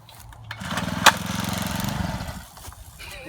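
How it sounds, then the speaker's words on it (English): A small 40cc pit bike engine starts up and runs with a buzzing, rapid putter, rising to a steady drone for about two seconds before cutting back, with a sharp click near the start. "Now we're gonna ride the 40cc."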